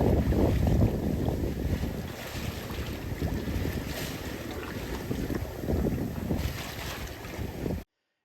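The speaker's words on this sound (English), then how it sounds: "It turned out this was a Navy patrol boat rather than Australian Border Force, and after idling alongside us for a while" A Navy patrol boat idles alongside a sailboat at sea, its low engine rumble blended with heavy wind buffeting and waves washing against the hulls, loud and continuous until an abrupt cutoff.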